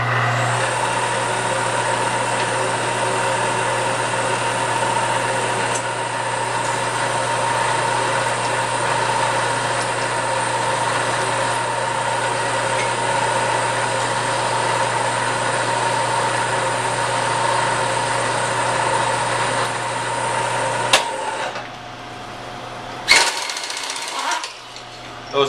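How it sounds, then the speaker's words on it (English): Steady, loud machine whine of a drill press drilling holes in metal with an end mill, continuous for over twenty seconds before winding down, followed by a few clanks and a short restart. "So now I'll drill the holes for the other side that the bolts will just pass through"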